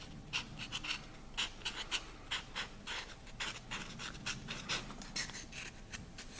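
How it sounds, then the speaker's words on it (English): A pen or marker scratching a name onto the back of a soft modeling foam bar, quiet, close, rapid irregular strokes with short pauses between letters. "Put your name on the back"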